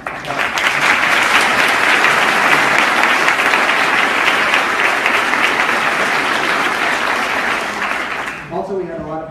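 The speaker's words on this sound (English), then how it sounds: "so another round of applause for that." Lecture audience applauding in a hall, a dense sustained burst of clapping for about eight seconds that tapers off as a speaker begins talking.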